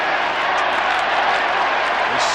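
A huge stadium crowd at the 1993 AFL Grand Final between Essendon and Carlton roars in a dense, unbroken wash of cheering and applause that fills the whole stretch evenly.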